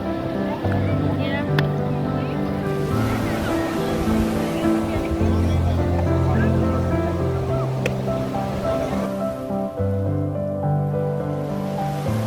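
Night surf on Cox's Bazar beach rolls in as a steady, loud broadband wash, with sustained tonal music layered over it for the whole stretch.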